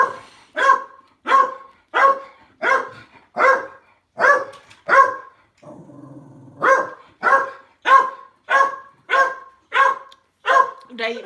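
A dog barks in a steady, evenly spaced series of loud, close woofs, with a short pause midway filled by a low murmur before the barking resumes at the same rhythm.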